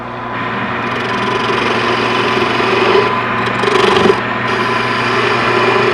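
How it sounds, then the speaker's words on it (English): A wood lathe runs at low speed, its motor giving a steady, close hum with a faint whine that holds evenly throughout, marked only by a brief dip and rattle near the end. "I'm going to keep the lathe running a little slow"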